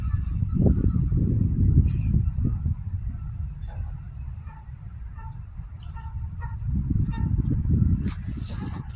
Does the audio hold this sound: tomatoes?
no